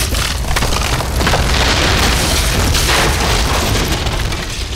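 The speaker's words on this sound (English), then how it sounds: "And here, shrine to Melkart, we're going to destroy it" Loud, continuous rumbling crash and booming as a shrine to Melkart is torn down in Rome: Total War, a dense sustained roar with no speech.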